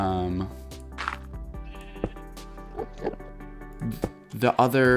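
Minecraft sheep being herded into a wool farm give several bleats spread through the stretch, ending with a louder cluster of bleats. Game background sounds run underneath.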